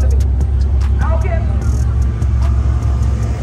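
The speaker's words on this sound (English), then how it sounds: "excuse me if y'all can't hear me as good with the cars in the background" Cars idling and revving at a drag race track, a steady heavy engine rumble filling the background with a few sharp clicks and brief higher tones on top, close and loud throughout.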